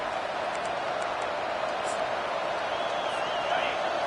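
Steady roar of a football stadium crowd during an injury timeout, a dense continuous wash of many voices holding level throughout with a slight swell near the end.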